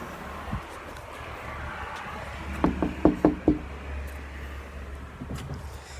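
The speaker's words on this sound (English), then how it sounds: "Just knocked." A series of five sharp knocks on a door, quick and evenly spaced, heard at close range against steady low traffic rumble with no talking.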